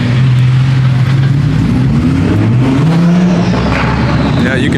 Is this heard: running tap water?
no